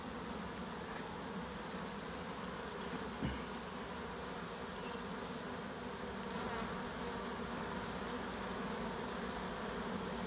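A dense, steady buzzing of many honeybees in a hive during a queen introduction, continuous and unbroken, with a faint high whine running throughout.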